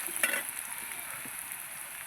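Chopped onion frying in a hot pan for a chicken and kohlrabi curry, a steady bright sizzle with a brief louder crackle near the start, close and even throughout.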